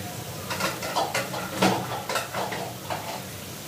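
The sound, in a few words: lid placed over a frying pan while cooking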